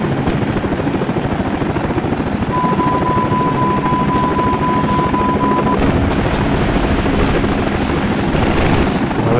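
A steady, loud rotor drone of video game helicopters overhead in a Hind helicopter flight simulator, with a constant low rumble and whooshing noise filling the whole stretch.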